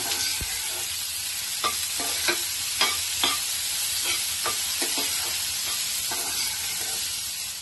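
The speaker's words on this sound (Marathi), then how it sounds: "तर कांदा टाकते तेलावरती।" Onion sizzles in hot oil in a pan with a continuous frying hiss. Occasional scraping stirs of a spoon cut through it at irregular intervals.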